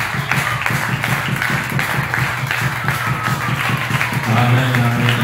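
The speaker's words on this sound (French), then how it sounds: "Applaudissons encore pour Jésus." A church congregation at a Saturday service claps in a steady rhythmic beat, loud and close, with voices mixed in and a swell of crowd noise toward the end.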